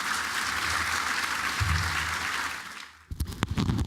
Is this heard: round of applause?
yes